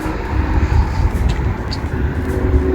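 A Nissan Juke's engine idles after an oil change, producing a steady, fairly loud low rumble that continues alone without any talk.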